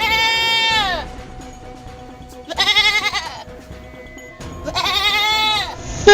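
A flock of goats brought to a roadside market bleats loudly and up close in three long, wavering cries separated by short pauses, with quieter background noise in between.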